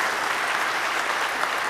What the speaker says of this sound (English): give a huge round of applause for this awesome talk